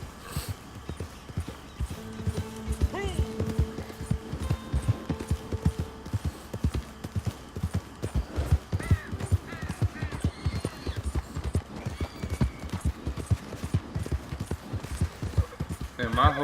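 Horse hooves clip-clop steadily in Red Dead Redemption 2, the galloping rhythm running throughout beneath game music and effects, with a brief whinny and a voice talking over it.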